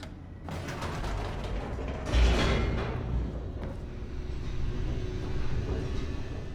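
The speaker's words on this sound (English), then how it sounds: "The elevator raced downward, plummeting towards an unknown fate." An elevator descends in the video game The Stanley Parable, giving a continuous mechanical rumble with creaking and grinding, swelling briefly partway through and then running on steadily.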